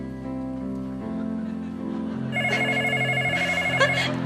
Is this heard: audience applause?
no